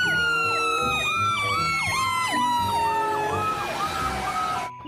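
A toy fire truck sounds its electronic siren, a loud wailing tone sweeping up and down repeatedly and close, ending abruptly after about five seconds.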